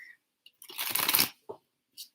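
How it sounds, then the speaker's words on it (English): A Sacred Self-Care Oracle card deck is shuffled close by in one dense, crisp riffling burst of roughly half a second, with a few light card taps before and after and no talking. "Then I'm going to shuffle up my Sacred Self-Care Oracle deck."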